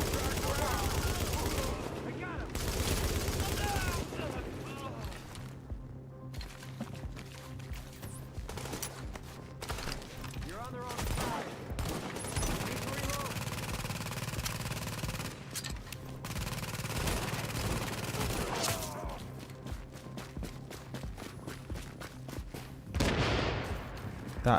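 ACR rifle gunfire in The Division 2 video game, with repeated sharp bursts and rapid shots over a steady game background, while a voice talks at times.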